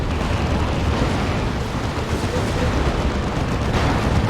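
A Predator tank in a Warhammer 40k: Dawn of War 2 battle blown apart, with a loud, sustained roar of explosion and rumbling blasts filling the scene without a break, dense and close.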